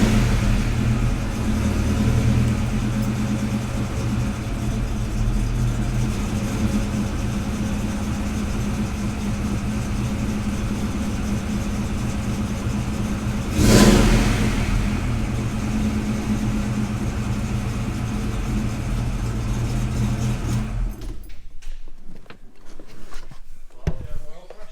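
A 1990 Ford Foxbody engine with low oil pressure running steadily, a continuous low rumble that swells briefly as the throttle is blipped, then cuts off near the end.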